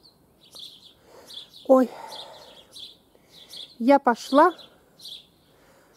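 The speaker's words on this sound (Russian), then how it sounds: "Солнца еще нет, но птички уже так поют." Birds chirp and tweet at dawn in a summer vegetable garden before sunrise, with high repeated calls across the clip, while someone speaks briefly over them nearby.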